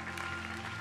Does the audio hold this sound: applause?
yes